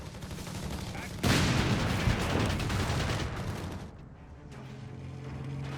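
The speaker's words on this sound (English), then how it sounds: "A few Panzergers boldly shoot at the side of it." Tank and anti-tank guns fire in Company of Heroes 3 as Panzergrenadiers shoot at the side of a vehicle: a loud, dense fusillade of shots and booms that fades to quieter rumbling, with a commentator talking over it.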